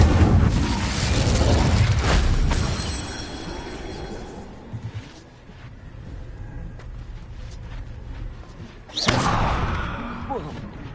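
Incendio fire spell cast in the video game Hogwarts Legacy: a loud whooshing blast at the start fades into a rumbling mix, then a second sharp burst flares up near the end.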